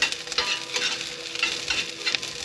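Onions frying and sizzling in a pan inside a camper, stirred steadily with a utensil, making a constant close hiss with repeated scraping strokes and no voices.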